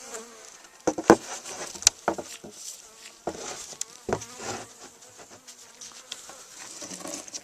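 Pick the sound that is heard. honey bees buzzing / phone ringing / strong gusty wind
honey bees buzzing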